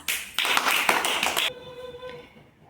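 A classroom of children claps together in a short burst of dense, lively applause lasting about a second, then fades into quieter room sound.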